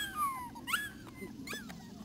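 Brittany puppies whimpering, giving several thin, high whines that slide downward, soft and close over faint background noise.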